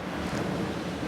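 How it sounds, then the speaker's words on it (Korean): Ocean waves wash in at Gwangalli beach in Busan, heard as a brief, steady broadband roar of surf mixed with wind buffeting the microphone, with no voices. "파도 소리 들리시나요?"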